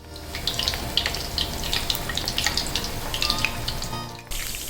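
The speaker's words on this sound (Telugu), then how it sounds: "ఆయిల్ బాగా వేడవ్వాలండి, ఇలా సౌండ్ రావాలి, లేదంటే ముక్క ఉడకదు" Chicken pieces deep fry in hot oil, a busy crackling sizzle with scattered pops and spits, close and continuous, briefly dipping near the end.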